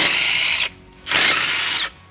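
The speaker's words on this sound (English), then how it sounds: "Now I can undo these carrier bolts and then hopefully I can pull the center out." A power tool or ratchet undoing the differential carrier bolts on a Jeep 4WD, two close loud bursts of whirring about half a second each with a short pause between.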